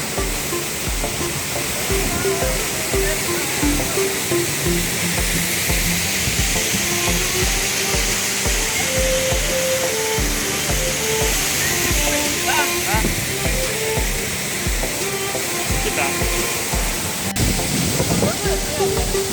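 A hidden waterfall near Rabi-opi, Banepa, roars with a dense, continuous rush of falling water, heard up close and loud, with voices faintly present beneath the steady roar.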